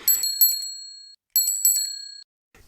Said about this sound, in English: Peppa rings her bell. Ding ding.